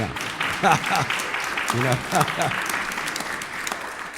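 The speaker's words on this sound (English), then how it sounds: "let's applaud that" Audience applause at a lecture, broad steady clapping throughout with voices talking over it now and then.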